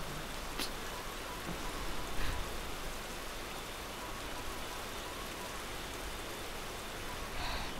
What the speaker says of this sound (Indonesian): hujannya lebat banget gini.